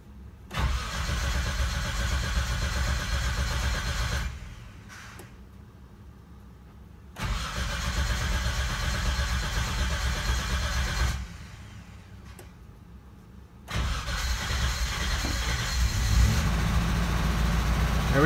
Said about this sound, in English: ready to try cranking this thing over for the first time in 12 years